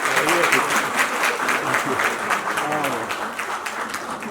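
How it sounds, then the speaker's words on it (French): Guests at a surprise birthday party for a grandmother applaud steadily, a dense wash of clapping with scattered voices and cheers mixed in, holding strong throughout. "Est-ce qu'on peut applaudir pour lui"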